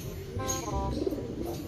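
A pigeon gives a short, soft, low coo close by, a single brief call over faint background noise.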